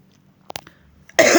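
A woman coughs indoors: a couple of short, soft throat catches, then one loud, harsh cough close to the listener at the end.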